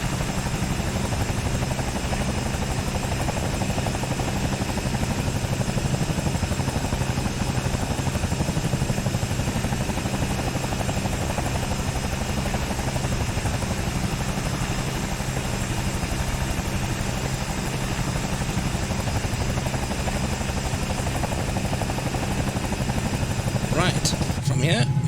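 Bell 222 helicopter in flight over Epcot and the Magic Kingdom, heard from inside the cabin as a steady, loud rotor and turbine drone that holds unbroken for the whole stretch, with a brief rustle near the end.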